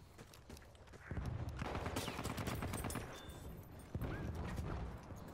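Gunfire in the video game Battlefield 1, bursts of rapid shots in quick succession, fairly faint overall, with a louder cluster of shots partway through.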